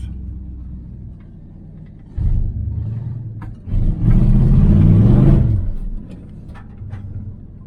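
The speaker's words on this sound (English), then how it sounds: "Sounds like a muscle car." Car engine with a small two-barrel carburetor and glass pack mufflers, a deep burbling idle that swells twice into loud, throaty revs before settling back to a low rumble, with no talk.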